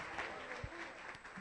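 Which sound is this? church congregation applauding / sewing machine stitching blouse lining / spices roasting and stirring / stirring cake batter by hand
church congregation applauding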